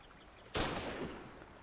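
A single sniper rifle shot in a video game, one sharp loud crack that rings out and decays over about a second, with no talking.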